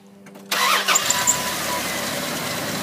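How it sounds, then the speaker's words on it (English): A 1997 Dodge Dakota with a freshly overhauled 3.9 V6 Magnum engine cranks briefly and fires up, catching with a loud burst before settling into a steady, close idle. "And she will now crank the engine."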